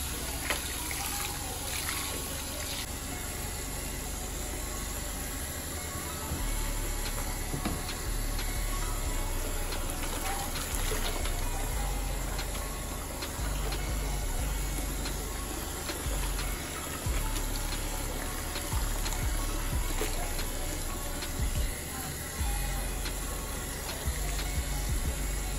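Water runs steadily from a tap while a bleached wig dyed ginger is washed, a constant close hiss and trickle that continues for the whole stretch with slight splashing variations.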